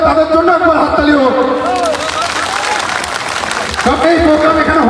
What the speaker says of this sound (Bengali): তাদের জন্য একবার হাততালি হোক